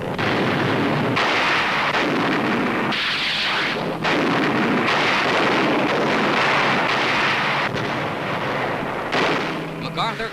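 Heavy anti-aircraft gunfire against attacking Japanese planes in a World War II battle, continuous booming bursts and roaring blasts that fill the whole stretch. A narrator talks over the din.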